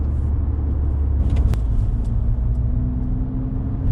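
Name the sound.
car accelerating hard in sport mode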